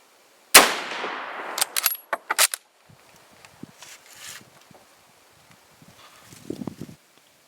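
A loud rifle shot from a .303 British firing Remington full metal jacket ammunition at a 100-yard range cracks sharply, followed by a few quick clacks of the bolt being worked and soft handling noises nearby.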